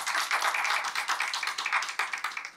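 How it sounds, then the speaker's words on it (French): A crowd applauds a guest, Saaba Traoré, at a live stage event, dense steady clapping sustained throughout, fairly close and with no talk over it. "Lui, c'est monsieur Saba Traoré, dit Abba, que je vous demande d'applaudir, s'il vous plaît."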